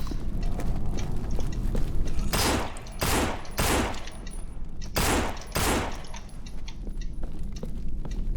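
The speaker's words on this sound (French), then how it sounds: "Il y a intérêt que je sois proche des zombies alors pour leur mettre des balles." Bursts of gunfire shooting zombies in the game No More Room in Hell, several loud, close shots in an uneven sequence over a low background rumble.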